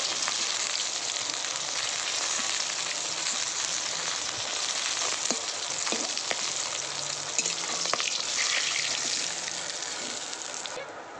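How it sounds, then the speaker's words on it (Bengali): Rupchanda fish sizzles and crackles steadily in hot oil, a dense, continuous frying hiss lasting throughout, with occasional louder pops. "বাকি মাছগুলো ভেজে নিলাম এবার তুলে নেব"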